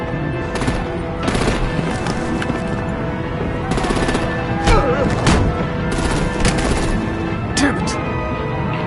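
Rapid bursts of heavy automatic gunfire and artillery fire hammer at vehicles in a Batman game battle, loud and continuous with sharp peaks, under a noisy mix.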